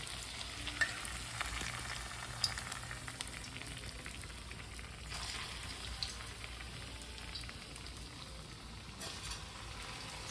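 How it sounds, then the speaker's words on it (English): Steady crackling sizzle of green and ripe plantains frying in oil, continuous and close, with occasional small pops. "So we're frying platanos and the amarillo for, I think it said 5 to 7 minutes."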